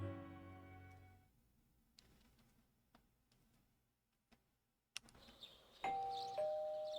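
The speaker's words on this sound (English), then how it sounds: "You hear the doorbell ringing." Doorbell chime in the video game Persona 4 Golden, a few sparse ticking hits in a quiet scene, then a brighter sustained electronic tone rising near the end, with no talk.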